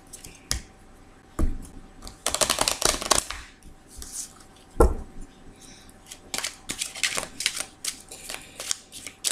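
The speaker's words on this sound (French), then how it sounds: "Alors je vais bien mélanger le jeu." A deck of tarot cards being shuffled by hand gives dense bursts of riffling, flicking card noise with sharp taps between them, close and fairly loud.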